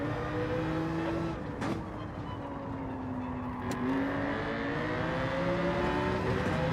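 Race car engines in the Gran Turismo 7 racing game hum steadily and loudly throughout, with a sustained pitch that dips and rises as the car chases another car through the corners. No one speaks.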